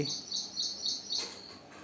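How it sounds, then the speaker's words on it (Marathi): A sparrow chirps while eating feed, giving quick, bright repeated tweets close by over a quiet background. "मनसोक्त चिमणी मस्तपैकी चारा खाते पाणी पिते"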